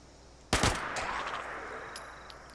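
A submachine gun in Fallout 76 lets off a sharp close burst that rings out and decays, followed by faint clicks and a thin high tone.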